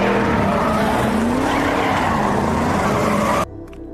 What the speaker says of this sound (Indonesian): aksi si Asep terhenti setelah ban mobilnya terkena jebakan paku